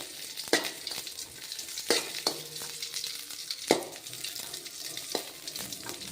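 Green chillies fry in a pan with a low steady sizzle, marked by a few sharp scrapes and taps of a spatula, close and fairly quiet, without speech.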